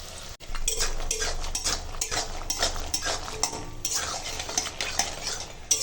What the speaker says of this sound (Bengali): এখন কড়াই তেল দিয়েছি আর বড়ি ভেজে নেব।